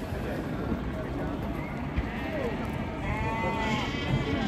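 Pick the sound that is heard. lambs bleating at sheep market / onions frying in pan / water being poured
lambs bleating at sheep market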